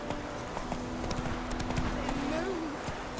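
A horse's hooves clip-clop in The Witcher 3, a steady walking rhythm near and fairly loud, with someone talking over it in Spanish and a brief whinny.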